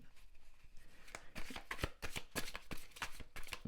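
Tarot-style cards being shuffled and drawn during a reading, a series of crisp, fairly close slaps and riffles in an irregular rhythm, quiet at first and then more frequent and louder, with no talking.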